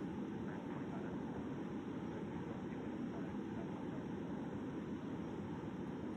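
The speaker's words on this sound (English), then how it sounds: "Here we climb with the full throttle, so we can't lose our speed." Airbus A380 engines roar at full throttle during a climb in the flight game Airline Commander, a steady, even wash of engine noise throughout.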